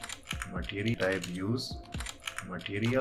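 Computer keyboard typing clacks along under a man's steady spoken explanation, the keystrokes close and fairly quiet beneath the voice.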